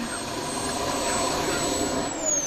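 A model L-39 Albatross jet with its turbine engine roars past at an airplane show rally, a loud, steady whine and rush that rises in pitch and then falls away as it passes.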